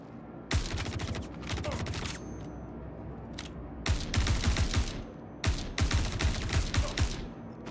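Rapid bursts of automatic gunfire in the space shooter Star Citizen, loud and close, coming in several long volleys separated by brief pauses.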